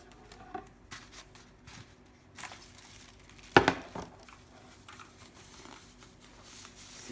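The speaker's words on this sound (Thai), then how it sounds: "ก็เดี๋ยวจะเอาคีย์บอร์ดออกมา" An Oker K84 RGB mechanical keyboard with blue switches is lifted out of its box, giving soft crinkling and rustling of packaging and one sharper plastic knock, quiet and close.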